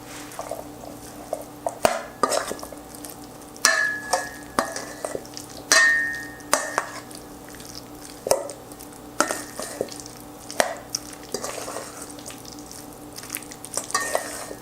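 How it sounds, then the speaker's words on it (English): Repeated scraping and clinking of a utensil against a bowl while stirring salad with mayonnaise for an avocado dish, irregular stirring strokes close by, with no voices. "And now for the fun part, which is stirring everything together."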